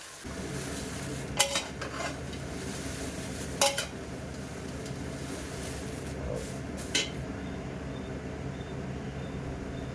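Dry red chillies roast in a pan over a steady low sizzle and stirring scrape, with a few sharp utensil clinks against the metal and no voices.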